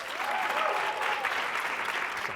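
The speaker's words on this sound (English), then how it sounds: "Give a round of applause to Sebastian King." Audience applause welcoming a software engineer speaker at a tech talk: steady, dense clapping from a crowd, sustained at an even level throughout.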